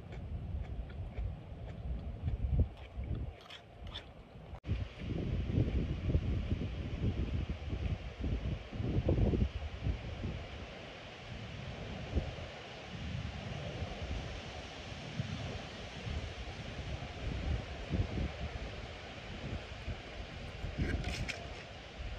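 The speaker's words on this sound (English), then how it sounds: "It's getting a little windy now." Steady wind roars outdoors, buffeting the microphone in a continuous rushing noise with occasional gusts, and no voices.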